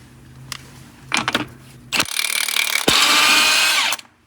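A 3/4-inch pneumatic impact gun with a deep-well 1.5-inch socket hammers at the lug nuts on an old MCI bus. It fires in several short bursts, then two longer, loud rattling runs, heard close up in a shop.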